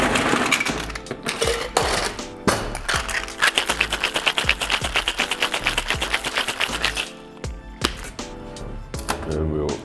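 A cocktail shaker is shaken hard with ice, mixing espresso with half heavy cream and half milk, giving a rapid, loud rattling rhythm of clattering ice that speeds into a dense run before slowing to a few final knocks.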